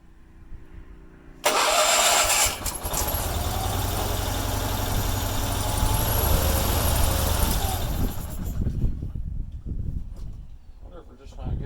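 A Bolens QT16 lawn tractor more than ten years old cranks and fires, its small engine bursting into a loud steady run for several seconds before cutting off and sputtering, with voices around it.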